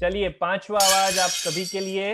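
Someone talks while a plate smashes partway through, a brief bright crash of breaking crockery that fades quickly under the voice.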